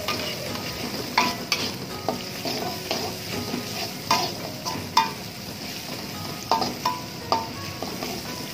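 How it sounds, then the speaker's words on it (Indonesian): Shallots and garlic stir-fried in oil for nasi liwet, a steady close sizzle under repeated scraping clinks of a spatula against the pan. "Minyak secukupnya, kita onseng ini bawang merah, bawang putih sampai wangi ya."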